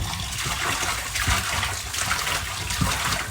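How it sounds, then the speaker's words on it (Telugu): Korramatta fish are washed under a running tap, with a steady rush of water and irregular splashing as the fish are swirled by hand. "మళ్ళీ నల్ల కింద పెట్టుకొని వాటర్తో చాలా టూ త్రీ టైమ్స్ కడగాలండి"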